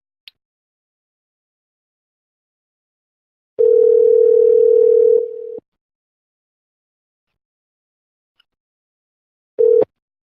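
A telephone dial tone after a cut-off call sounds as a loud, steady, pure single tone for about two seconds, then silence, with a short burst of the same tone returning near the end.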